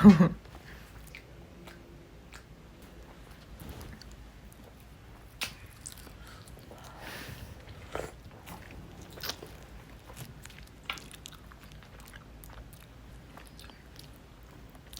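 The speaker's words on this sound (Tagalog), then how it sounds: "Last bite." Someone bites and chews food at a family vacation meal, producing soft, irregular close mouth sounds and occasional sharper bites over a quiet background, with no talking.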